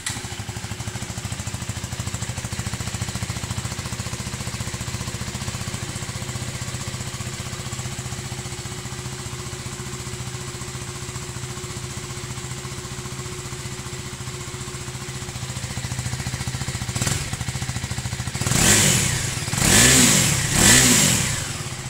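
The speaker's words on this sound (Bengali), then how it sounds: "চলো বাইকে এবার সাউন্ডটা শোনাই" KTM 390 Duke single-cylinder motorcycle idling steadily at close range, then revved in several sharp bursts near the end, loud and without talk.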